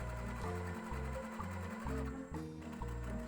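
A sewing machine stitches zigzag seams on fabric cut from bed sheets, running in short rhythmic bursts of fast mechanical whirring that stop and start again, steady and close, with no talking.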